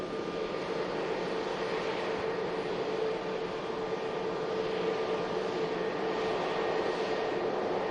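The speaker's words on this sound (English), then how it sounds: "British Airways, Airbus A320 Neo just touched down as well" A British Airways Airbus A320neo lands at Manchester Airport after a flight from London Heathrow, producing a steady, heavy roar that holds unbroken throughout, heard from a distance with no one speaking.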